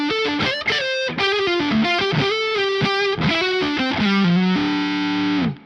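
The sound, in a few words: electric guitar on neck pickup, creamy mid-forward ParaEq MKII tone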